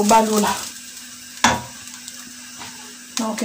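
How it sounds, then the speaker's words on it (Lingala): Grated coconut frying in a pot over a strong flame while being stirred, with sizzling under a few sharp scraping and clattering strokes against the pot, close by. "Nazobalola nyampulu na nga, natie yango na moto"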